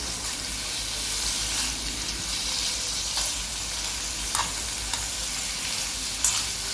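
Food frying in a little coconut oil while being stirred, a steady hissing sizzle throughout with occasional sharp scrapes and taps of a utensil against the pan.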